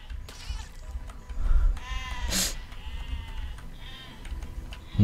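Sheep in the medieval siege-engine video game Besiege give a few short, thin bleats over low rumbling game noise, with one brief sharp burst partway through.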